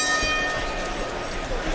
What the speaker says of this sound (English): The bell in round two.